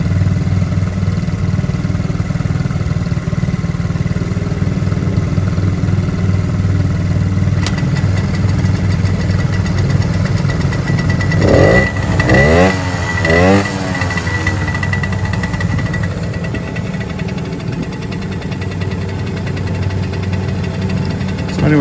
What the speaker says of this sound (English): And the Suzuki's two-stroke, and it makes nice wing-to-ding-ding noises